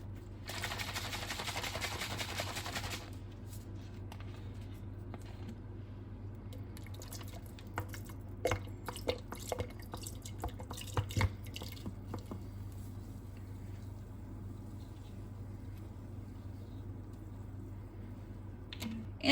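Corn syrup drips and trickles from a bottle into a pot during pecan praline making, soft irregular patters and splats over a steady kitchen hum.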